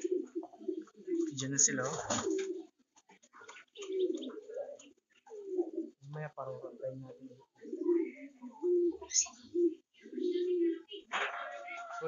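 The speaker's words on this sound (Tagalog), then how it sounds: "Ito mga kalapatids, mga apat na to, hindi ko muna pinakawalan." Young domestic pigeons coo softly and repeatedly at close range in a loft, while someone talks in Filipino in between and over the calls.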